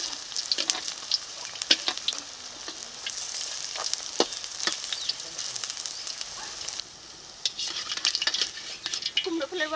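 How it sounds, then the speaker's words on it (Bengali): Pumpkin flower fritters fry in oil, a crackling, spattering sizzle with frequent sharp pops and utensil clinks as they are turned, close and busy throughout. "এই তেলে কুমড়ো ফুলের বড়া ভেজে নিচ্ছি।"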